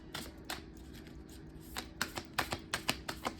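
A deck of cards being riffle-shuffled close up, faint at first and then a quick run of crisp, evenly spaced riffling snaps near the end, with no voices.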